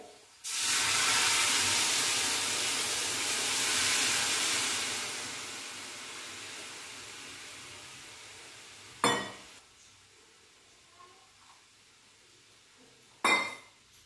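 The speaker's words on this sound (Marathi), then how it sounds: "आता आपण याच्यामध्ये हे पाणी टाकू। हे पाणी गरम केलेलं आहे।" Hot water poured into sizzling masala sets off an immediate loud, sustained hiss of steam that slowly fades, followed by two sharp clinks of a utensil against the pot.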